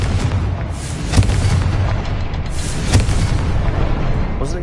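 Confringo fire spell blasting in the Hogwarts Legacy video game: a dense, continuous rumble of game audio with two sharp booming bursts standing out, loud and close, with no talk over it.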